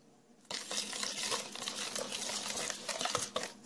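A spoon scrapes and swishes as a yogurt, spice and olive oil marinade is mixed in a bowl. The stirring is soft and continuous and starts abruptly after a moment of quiet.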